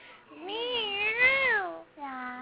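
A cat meows in two drawn-out, rising and falling calls close to the listener, the first long and wavering, the second shorter after a brief pause, with no other sound around them.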